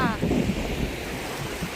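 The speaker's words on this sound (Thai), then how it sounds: "ฟังเสียงคลื่นทะเลนะคะ" Sea waves wash onto a clean beach at Sattahip, Chonburi, a broad hiss of surf mixed with wind buffeting the microphone, steady and close throughout.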